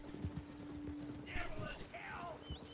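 Horse hooves clip-clopping in the Red Dead Online video game as a horse moves through a city street, a steady hoof rhythm heard under a player's talk with other game sounds around it.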